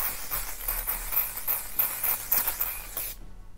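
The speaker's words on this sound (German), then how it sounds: "Und sprühen in der Zwischenzeit einmal dieses Spray nochmal auf." A setting spray mists over a made-up face in a run of rapid hissing pumps, close and steady, then cuts off abruptly into quiet.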